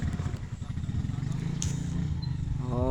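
A tractor engine in a sugarcane field gives a steady, loud low rumble throughout, with voices speaking over it near the end.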